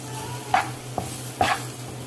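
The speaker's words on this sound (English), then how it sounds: "let that flour brown on the onions and peppers." Flour browning with onions and peppers in a pan for smothered chicken, a low steady sizzle broken by a few sharp stirring scrapes and clinks of a utensil against the pan.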